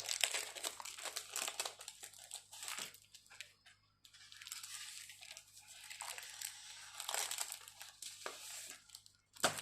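Silver scrapbooking card bases pulled out of crinkly plastic packaging, producing close, continuous crackling and rustling in irregular bursts with a brief pause midway, with no talk.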